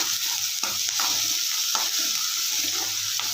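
Chopped onions sizzle in hot oil in a pan while a spoon stirs them in several distinct scraping strokes, close up and steady, with no voices.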